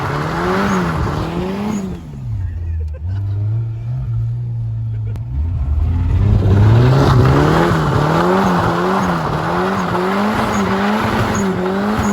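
Race car at Killarney track spinning out, tyres squealing in long warbling skids while the engine revs rise and fall, loud and close from inside the cabin, with a brief quieter dip before the squeal returns.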